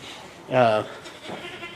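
A goat bleats once, a loud, close, wavering cry lasting under a second, followed by a fainter call, with a person talking around it.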